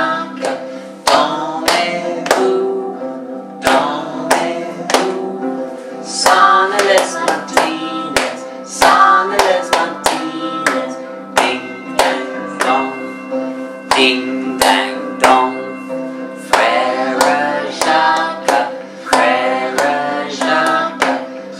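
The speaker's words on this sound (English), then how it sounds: "I'll sort of clap it and you'll get the feel of it." Steady hand claps keep the beat of a song in a primary school music lesson, sharp regular slaps repeating loudly and evenly with no talk between them.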